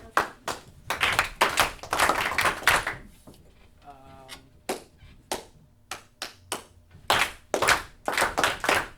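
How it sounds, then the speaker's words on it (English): A classroom of students claps together to quiet down: bursts of sharp, synchronized hand claps in rhythmic patterns, separated by short pauses, with a brief spoken voice in the middle gap. "I'm going to clap it quiet."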